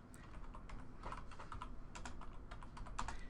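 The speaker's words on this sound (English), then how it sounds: "I'm going to type in contact form 7 and I've done that before on this computer and I'll press enter" Quiet, rapid clicking of keys on a computer keyboard, a steady run of taps close by with no voice over it.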